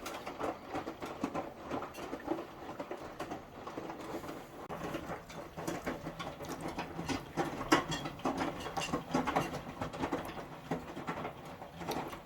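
An Indesit 1400 washing machine running with its top and back covers off gives a steady mechanical churn with soft clicks and patter from the drum, continuous and fairly quiet throughout.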